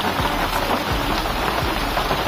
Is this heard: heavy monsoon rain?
yes